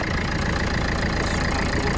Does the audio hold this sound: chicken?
no